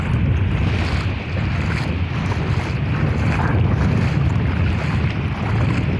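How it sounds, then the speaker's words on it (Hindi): Strong sea waves on the Qatar coast roar continuously with heavy wind buffeting, a loud unbroken rush of surf and gusts throughout. "ये समुद्र की तेज लहरें"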